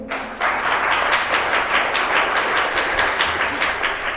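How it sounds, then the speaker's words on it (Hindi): Church congregation applauding loudly and steadily, a dense wash of many hands clapping that starts abruptly and continues for about four seconds with no talk over it. "और यीशु के लिए ताली बजाइए।"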